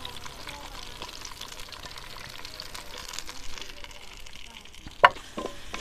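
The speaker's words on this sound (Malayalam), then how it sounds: "ഞാൻ ഇതിനകത്തിട്ട് വഴറ്റുവാണ്" Finely chopped onion with green chillies and ginger sautés in a pan, giving a low, steady sizzle with light stirring scrapes and one sharp clink near the end; close and quiet, with no voices.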